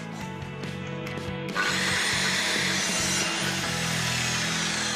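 A circular saw spins up and bites into a workpiece in a metal-furniture workshop, giving a loud, steady whining cut that holds for several seconds after a quieter tool hum.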